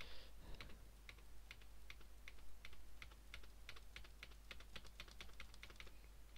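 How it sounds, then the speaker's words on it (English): Fast, rapid-fire typing on a computer keyboard during a Hearts of Iron III strategy game session, a dense stream of close, sharp key clicks over a low steady hum. "you can hear me just pure spamming the keyboard"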